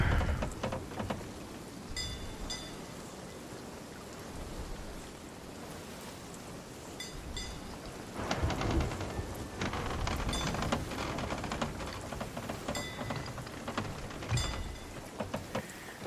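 Stormy rain in the pirate game Sea of Thieves, a continuous hiss of rainfall with gusty surges and low rumbles swelling midway, steady and moderately loud.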